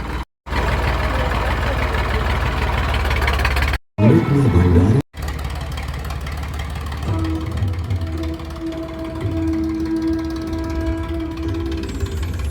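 A decorated tractor's engine runs during a village rally in India, a steady, loud, low rumble close by with a couple of brief cutouts, joined later by faint tonal sounds.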